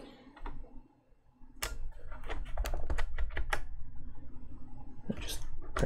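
Fast, close typing on a Kinesis Advantage ergonomic keyboard retrofitted with Cherry ML switches: a dense run of sharp keystroke clacks after a brief pause, steady and alone with no talking.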